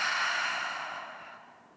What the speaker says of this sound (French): Par la bouche, expire.